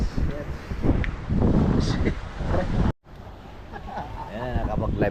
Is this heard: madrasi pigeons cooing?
no